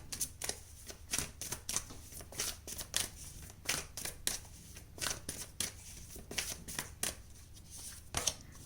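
Tarot cards being shuffled by hand, a steady run of crisp riffling and slapping bursts at close range with no voices over them.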